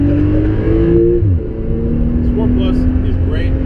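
A Porsche 911 Turbo S accelerates hard from inside the cabin, its engine droning loudly and steadily with audible gear shifts as pitch drops and climbs again, under talk from the occupants.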